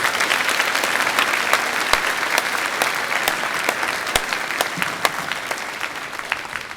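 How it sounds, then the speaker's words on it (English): A school auditorium audience applauds a middle school band after its performance at a Veteran's Day program, a loud, steady wash of many hands clapping with sharp individual claps standing out, no voices over it. "Let's give them another round of applause."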